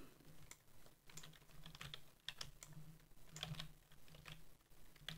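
Faint computer keyboard typing, irregular clusters of quick key clicks with short pauses between bursts.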